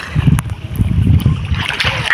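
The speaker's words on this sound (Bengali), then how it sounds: "যে নৌকা আসছে।" Loud, close splashing of river water as a boat approaches, with choppy bursts of turbulent water and rushing noise over the short stretch.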